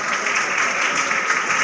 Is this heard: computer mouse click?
no